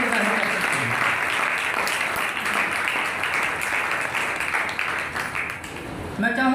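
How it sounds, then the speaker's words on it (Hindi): A congregation at a church ordination ceremony in Karachi claps steadily in loud, dense applause that holds throughout, fading briefly before a voice returns at the very end. "अपने हाथ उठाकर, ताली बजाकर अपनी रजामंदी को जाहिर कर सकते हैं।"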